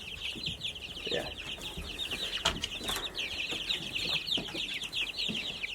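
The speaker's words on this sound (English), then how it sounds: "Those are my layer chicks." Young layer chicks clucking and cheeping in a group, a continuous chatter of soft clucks and peeps close by, with occasional rustles and flutters underneath.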